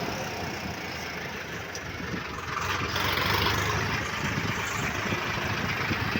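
A tractor engine runs steadily nearby, a loud rumbling drone that grows slightly louder partway through.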